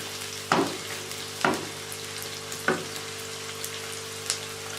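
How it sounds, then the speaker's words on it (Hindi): Onions browning in a pan, a soft continuous sizzle under a low steady hum, broken by three or four distinct stirring scrapes spaced about a second apart. "प्याज को हम फ्राई कर लेंगे, भून लेंगे।"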